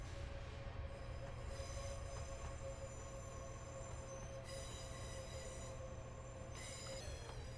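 A steady, high-pitched squeal of train wheels on rails rings over a constant low rumble of a moving Class 365 train in Train Simulator 2020, Edinburgh to Glasgow, continuous throughout.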